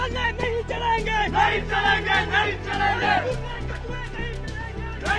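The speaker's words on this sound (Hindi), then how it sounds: "जो भीड़ है वो मस्जिद की तरफ अब धीरे धीरे बढ़ रही है" Large protest crowd of demonstrators advancing toward a mosque in Shimla after breaking through barricades, with loud continuous shouting, chanted slogans and overlapping voices that swell and fall in waves.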